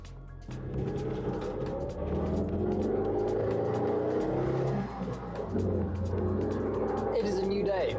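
A twenty-year-old roadster's engine runs steadily while driving, a low droning hum with gear-change dips and rising revs, heard from inside the car.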